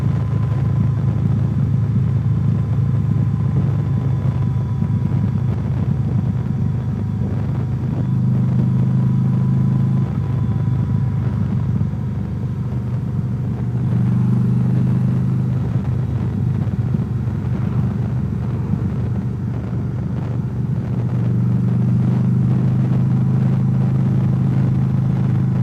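A steady engine drone with low rumbling and wind, holding constant throughout as a motorcycle cruises along a Tennessee mountain road, no voices.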